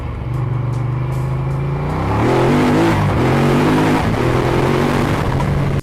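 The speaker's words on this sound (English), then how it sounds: "Just listen for yourselves how this was sounding from my perspective. These are stock exhausts." Stock-exhaust Ducati V-twin motorcycle, a 1262 cc Testastretta DVT XDiavel, heard from the rider's seat as a steady loud engine drone that climbs in pitch while accelerating through the gears, with no talk over it.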